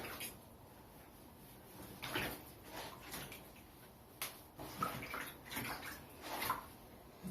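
Soft splashing and dribbling water as a guinea pig is bathed with shampoo in a tub, gentle intermittent swishes and drips at close range with no talking.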